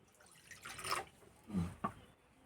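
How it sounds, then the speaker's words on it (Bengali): A little water is poured into a kadai on the stove, making a couple of short, soft splashes and drips close by that come and go in quick bursts. "কড়াই দেবো অল্প একটু জল"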